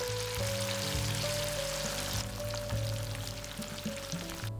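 Rohu fish pieces deep-fry in hot oil with a fine, continuous crackle and bubbling, heard close over a low steady hum, and the frying thins out toward the end.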